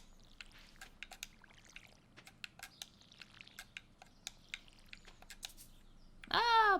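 Watering can pouring in the farming game Stardew Valley: a string of light, crisp taps and splashes at an even pace, ending in a louder burst of water.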